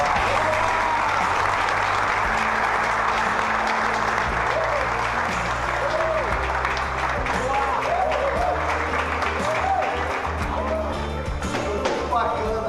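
Steady, sustained applause from a group fills the whole stretch, with a low background hum and talking mixed underneath.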